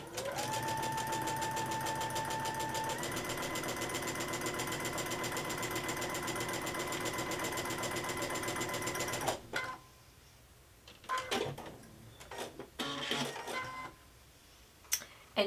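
A sewing machine chain piecing quilt patches runs fast and steady up close for about nine seconds, then stops, leaving scattered handling clicks and rustles.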